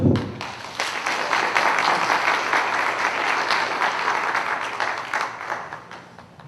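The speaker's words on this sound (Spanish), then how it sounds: "Un fuerte aplauso, por favor." Loud applause fills a lecture hall after a speaker's talk at a specialized arbitration law course, a full crowd clapping close and dense before gradually thinning toward the end.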